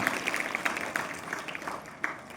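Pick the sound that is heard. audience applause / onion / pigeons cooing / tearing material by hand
audience applause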